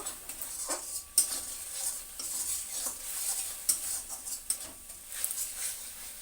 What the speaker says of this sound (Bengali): এবার আমি দিয়ে দেব নুন, দিয়ে দেব হলুদ, দিয়ে আবার ভালো করে কষিয়ে নেব